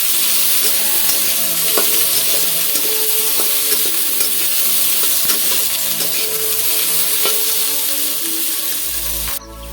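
Potatoes fry in oil already used for frying fish, giving a loud, steady close-up sizzle with occasional stirring clicks throughout, before a brief low thump at the very end.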